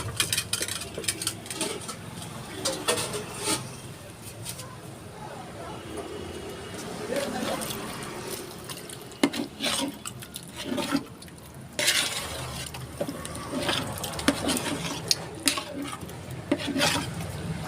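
Wet rasping and scraping of a spoon stirring thick mutton masala for biryani in a pot, repeated in uneven strokes with occasional clanks.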